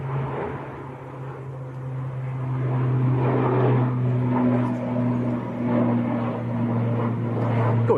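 An Avianca-liveried airliner takes off at Manchester Airport and climbs steeply, with a steady engine roar and a strong low droning hum that swells gradually, moderately distant and continuous.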